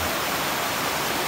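Steady broadband rush of a river flowing over rocks on the way back from Bedegung waterfall, a continuous close, even wash of water with no talk.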